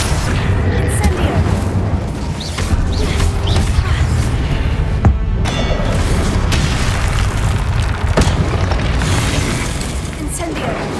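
In the game Hogwarts Legacy, a spell burst lands with a heavy boom amid dense, loud combat noise. Sharp impacts and fiery crackles hit at irregular moments, and a voice calls out spell names.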